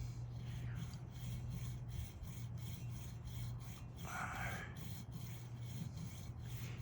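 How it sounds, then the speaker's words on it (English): A luthier files a slot into a classical guitar nut, producing quiet, repeated rasping strokes at close range in a steady rhythm, with one brighter scraping pass midway over a low background hum. "now I'm going to cut it to the mark that's on the front of the nut here"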